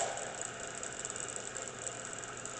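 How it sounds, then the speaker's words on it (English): K.O. Lee B2060 tool and cutter grinder with its main spindle running forward, a faint steady motor hum with a light, irregular rattle from a loose washer, close and without talk. "I'm going to bring on the main spindle for you."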